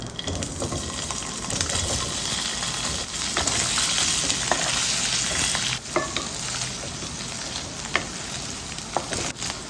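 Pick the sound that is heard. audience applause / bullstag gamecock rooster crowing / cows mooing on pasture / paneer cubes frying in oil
paneer cubes frying in oil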